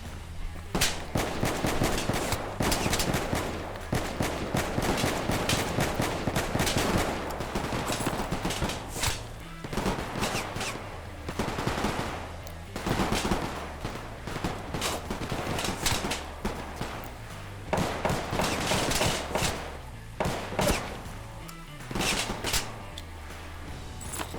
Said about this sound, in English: Don't know where I'm being shot from.